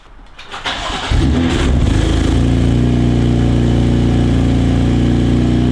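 A BMW M3 fitted with a new exhaust cranks briefly and catches, settling into a loud, steady, deep idle close by with no talking.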